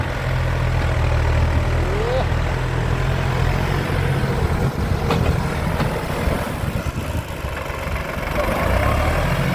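A Massey Ferguson 4707 three-cylinder tractor engine rumbles steadily at a low, heavy idle close by, with a person talking faintly over it.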